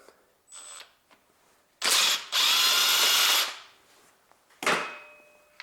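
Bolts on the cylinder head cover of a Honda Civic 1.8 engine being loosened with a tool, bursts of loud whirring and rattling, one long sustained run between shorter ones, with quiet gaps.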